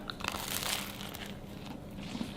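A close bite into a crunchy homemade Olive Garden-style breadstick with a fluffy center, a short crackling crunch followed by quieter crumbly chewing, with no voices.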